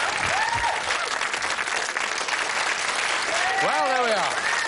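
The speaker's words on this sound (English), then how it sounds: "Deserves another round of applause," Sustained, dense applause from a television quiz-show studio audience, steady and full throughout, with a few faint whoops and a brief voice or whistle-like rise near the end.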